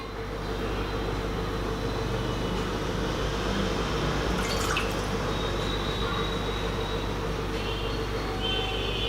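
Water, two cups, poured while making ragi kuzhu: a continuous steady filling rush with faint clinks, alone and fairly loud throughout.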